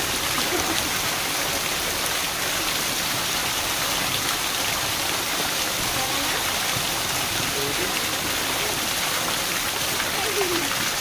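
A steady, broad roar of a waterfall near a cave, constant and fairly loud throughout.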